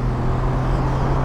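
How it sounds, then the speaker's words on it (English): A Mercedes-AMG GT C Roadster's V8 drones steadily at speed, a low continuous engine note mixed into heavy wind rush with no talk. "I hope you can hear some of that V8 sound over the wind."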